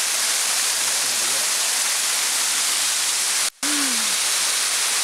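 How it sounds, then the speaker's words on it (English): A large waterfall with a massive volume of water pouring down, roaring as a loud, continuous rush of broadband noise close by, interrupted only by a brief dropout. "there's this, massive amount of water coming down"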